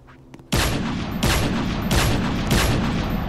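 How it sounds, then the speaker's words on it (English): Gunfire in the Fortnite video game, four loud sharp blasts about every second with ringing tails, close and dominant, no talk over them. "No, I hear gunshots."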